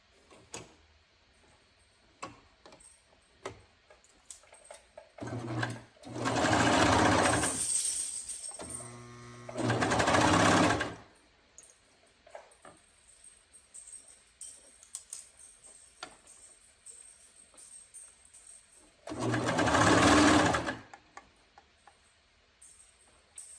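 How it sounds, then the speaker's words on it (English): A serger overlock sewing machine stitches a shoulder seam in three loud bursts of steady mechanical whirring, two close together then one more after a pause, with soft ticks and handling noises between. "then I'm going to serge my shoulder"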